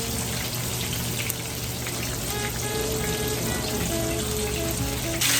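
Chicken pieces frying in hot oil give a steady close sizzle and crackle, with dense spattering pops continuing throughout and no talk.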